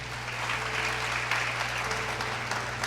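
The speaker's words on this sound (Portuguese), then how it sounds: "Você pode aplaudir e ficar de pé?" A church congregation claps, a modest, continuous patter of hands sustained over a low steady hum in the worship hall.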